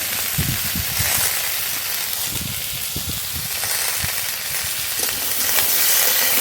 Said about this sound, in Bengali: কেটে রাখা টমেটো দিয়ে দেব লবণ হলুদ গুঁড়ো